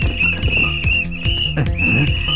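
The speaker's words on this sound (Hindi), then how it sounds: "ट्रैफिक पुलिस की तरह सीटी बजा रहे हैं घूम घूम कर।" Shrill whistle blown in sustained blasts by people acting like traffic police, repeating several times with short gaps, loud and close over a busy background.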